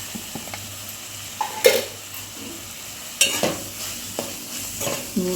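Taro with chili powder and salt is stirred in hot oil, with a quiet sizzle broken by several sharp scrapes and clinks of a spoon against the pan.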